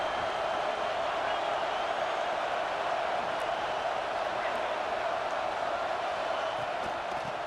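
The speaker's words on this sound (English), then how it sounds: "Listen to the crowd energy here in the early going." An NCAA college football video game, Tennessee against the Buffs, carries a constant, even stadium crowd roar that holds steady throughout.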